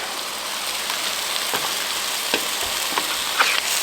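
Smash burgers and zucchini sizzling on a Blackstone camp griddle, a loud continuous hiss and crackle with scattered pops and light scraping, and no talking.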